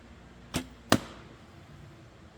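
Two arrows leave a traditional bow in quick succession, each a sharp, close snap and whoosh, the second louder, set against quiet outdoor background with no talking.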